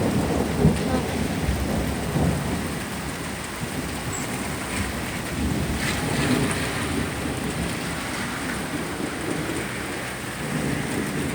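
Heavy rain pours steadily during a severe thunderstorm while deep thunder rumbles underneath, a dense and continuous wash of sound with no voices.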